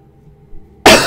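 A single sudden cough bursts out loudly at close range after near silence, from someone recovering from a lingering cough.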